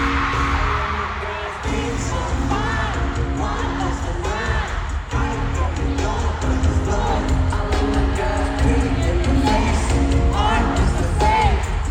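A concert crowd at a stage show cheers and screams in a loud, continuous roar, dense and steady throughout, with voices blending into the wash of noise.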